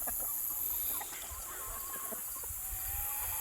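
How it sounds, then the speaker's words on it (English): Roosters and a white hen cluck softly in a backyard flock, with short, scattered calls at moderate distance over a faint steady background hum. "The two roosters and that white hen right there, we hatched."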